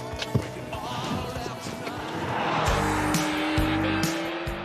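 McLaren 750S Spider on the move, engine note rising as it accelerates with a whine climbing in pitch, tire and road noise around it, heard from a moderate distance.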